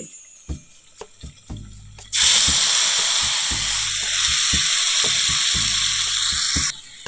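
Spice paste for a fish curry with young jackfruit and potatoes hits hot oil in a pan. A few light taps come first, then a sudden loud, steady sizzle that holds for several seconds and cuts off abruptly.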